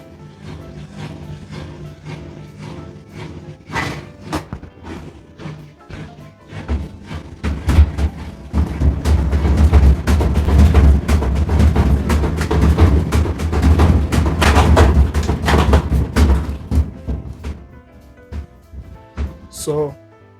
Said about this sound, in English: It's making some loud banging sound and vibrating excessively.